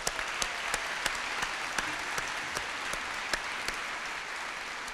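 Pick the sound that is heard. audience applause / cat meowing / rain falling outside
audience applause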